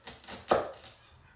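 A kitchen knife cutting through a fennel bulb on a board, a few quick close chops with one sharper crunch in the middle, then fading quiet.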